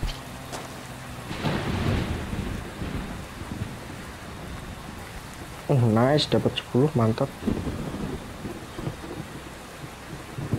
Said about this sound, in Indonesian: Nah, ini nih hujan nih, apakah di rumah bakal keisi kalau hujan?